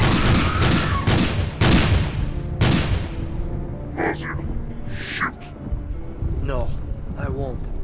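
Dense gunfire from a horror film, a rapid volley of loud, close shots that cuts off abruptly, followed by quieter rumble, a few faint tonal calls and a voice speaking.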